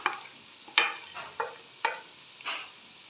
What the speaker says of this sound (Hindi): सबसे पहले मैं इसमें शामिल करूँगी भिंडी।